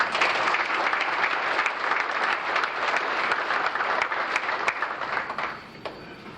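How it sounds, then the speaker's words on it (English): Banquet audience at a county FFA awards event applauds a chapter award winner, a dense, steady burst of many hands clapping close and loud for about five seconds before tapering off. "give him a good round of applause"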